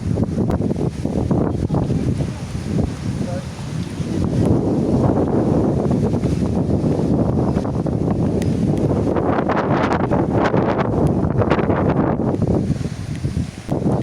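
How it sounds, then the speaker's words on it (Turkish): Gusty wind buffets the microphone at the Teos ancient city ruins near Sığacık, Turkey, a loud rumbling roar that rises and falls in waves, with a faint rustle behind it. "Rüzgar."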